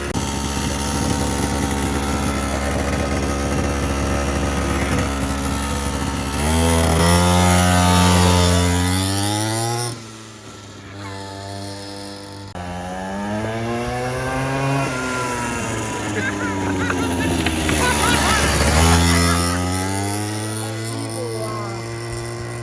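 A quad bike engine ridden by a child drones loudly and continuously, rising and falling in pitch as it revs up, eases off briefly near the middle, then climbs again.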